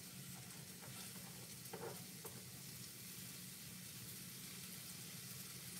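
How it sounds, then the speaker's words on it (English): Onions sizzling steadily in a hot frying pan, a soft continuous crackle and hiss with faint stirring, no voices. "So I'm adding the onions to the frying pan"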